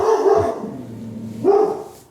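A dog barks twice close by, two loud harmonic barks about a second apart with a low whine between them, no talking.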